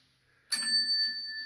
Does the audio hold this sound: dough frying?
no